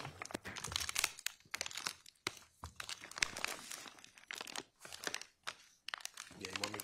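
Plastic evidence bag being opened in a courtroom, loud close crinkling and rustling in irregular bursts, with a voice speaking partway through.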